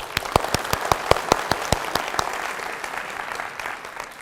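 A small audience of students claps in uneven, sparse bursts, individual sharp hand claps ringing out close together before thinning and fading toward the end.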